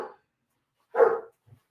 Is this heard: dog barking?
yes